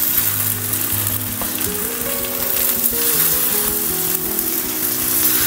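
Broccoli cutlets sizzle and fry in butter in a pan, a steady close crackling hiss running throughout, with a faint tonal hum underneath.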